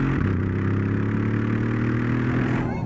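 Deep, steady growl from the turbocharged V8 of a 2014 Mercedes-Benz CLS63 S AMG, a continuous low rumble held at an even level for a few seconds with a slight change near the end.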